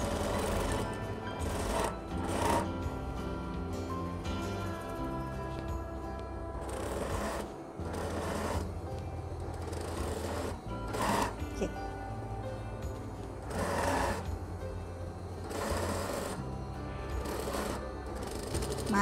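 Sewing machine stitching fabric for a layered skirt runs in a steady mechanical whir through long stretches, pausing briefly between runs, with a low hum and occasional clicks.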